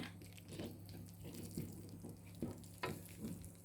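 Panang curry paste being stir-fried in a pan over low heat, a quiet sizzle with soft periodic scraping strokes of a spatula, no talking.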